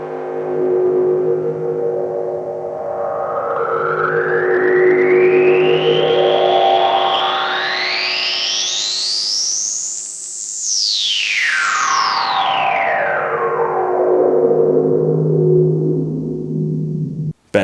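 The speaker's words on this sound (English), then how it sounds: "So we can customize our drone sound. And let's add a spring reverb to get some extra emphasis on the bandpass." A synth drone runs through Erica Synths Black low-pass, high-pass and filter modules with a spring reverb added, the filter sweeping slowly upward into a bright peak and then back down, loud and sustained with no speech.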